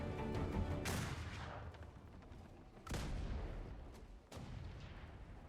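Mortar fire in a naval-era combat video game, three heavy booming blasts spaced a couple of seconds apart, each followed by a long rumbling decay over continuous background battle noise.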